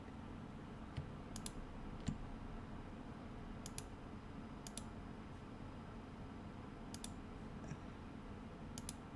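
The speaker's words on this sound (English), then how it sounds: "Follow link, control click." Faint, sparse clicks of a computer mouse sound in a quiet room, a few single taps spaced a second or two apart over a low background hiss.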